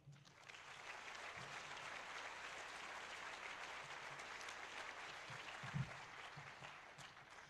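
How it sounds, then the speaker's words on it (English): A hacker conference crowd claps at an award ceremony, a steady wash of applause heard from a distance at low level, with a few louder thumps near the end. "So can we get a round of applause for DC 801?"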